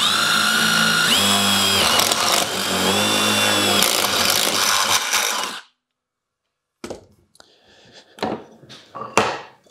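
A Milwaukee Shockwave impact-duty step drill bit bores through a thin metal profile with a loud, steady power-drill whine lasting about five seconds, then stops abruptly, followed by scattered clatter and handling knocks.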